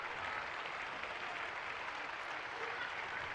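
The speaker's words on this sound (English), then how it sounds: "he's been applauded off by both sets of fans" Football fans at a cup final, a steady broad wash of applause from both ends of the ground, continuous and distant-sounding for several seconds with no clear voices over it.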